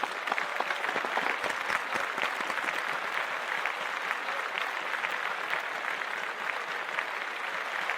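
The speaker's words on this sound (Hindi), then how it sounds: "तालियां।" Sustained, dense applause from a studio audience at a married-couples contest on a Hindi TV comedy show, steady and loud throughout with no voices standing out.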